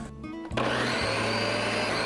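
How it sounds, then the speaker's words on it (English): A blender whirs on lemon juice, Dijon mustard and hot sauce, starting from a lower idle and jumping to a loud, steady full-speed roar with a brief dip partway through, close and continuous. "Cover it and blend it for about 5 seconds."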